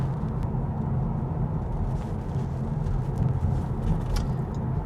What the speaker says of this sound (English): So I'm currently driving through a village near where I live